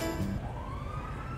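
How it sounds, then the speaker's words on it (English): Emergency sirens sound in a video game, a rising wail sweeping upward over a steady low engine-like rumble, moderately loud and continuous with no talking. "You hear those sirens?"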